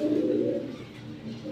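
A large silver pigeon, an Old Hammer type, coos close up in a loft, one sustained low throaty burble that fades and then swells slightly again.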